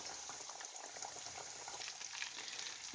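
Coated chicken pieces frying in a pot of hot oil, giving a steady, dense bubbling crackle that holds at an even level throughout, close and continuous with no talk.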